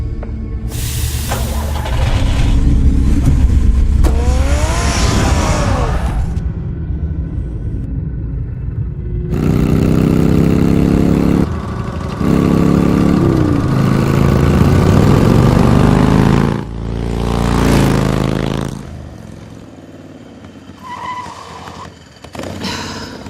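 The Batmobile's engine in Batman The Telltale Series rumbles loudly with deep roaring bursts and revving surges, broken by short pauses and fading toward the end.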